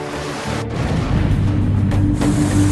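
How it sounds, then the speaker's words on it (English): Deep, rumbling boom from an eruption at Krakatoa volcano in Indonesia, a heavy low roar that swells and stays loud and continuous, with faint muffled breaks in the upper noise. "We got a little explosion going on."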